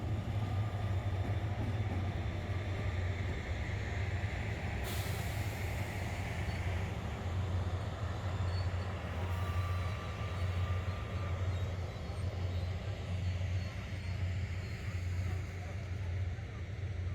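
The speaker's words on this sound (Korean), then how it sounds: "때마침 기차가 들어오고 있었다." A train pulls into a rural station beside an old water tower, heard as a steady low rumble and engine drone for the whole stretch, with a brief hiss of air partway through.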